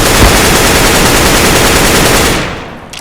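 Dense, rapid automatic gunfire from the video game Counter-Strike, loud and continuous for nearly three seconds before cutting off, with no voices.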